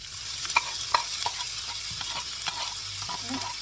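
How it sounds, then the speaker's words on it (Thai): Onions stir-fried in a pan for a crab-fat mushroom spaghetti, with a soft continuous sizzle and repeated clicks and scrapes of a utensil against the pan, close and fairly quiet. "ใส่หอมใหญ่ลงไปผัดก่อนลงไปเกียวจนน้ำหอม"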